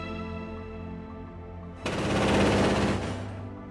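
A 35mm revolver cannon on a Sky Shield anti-aircraft system fires one loud, rapid continuous burst at about 1,000 rounds per minute, lasting roughly a second after a low hum.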